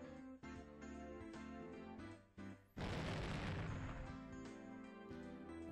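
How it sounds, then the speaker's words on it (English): A sudden burst of white lime erupts from a window in the game Higurashi When They Cry, a loud, broad whooshing blast that cuts into the ongoing background music and holds for several seconds. "an explosion of pure white lime burst out of the window"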